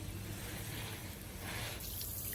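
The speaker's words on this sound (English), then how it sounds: "let's pick up my hose. It's just laying here, spewing water out" A garden hose lying on the ground spews water in a steady, unbroken hiss and splatter, loud and close, with no voices.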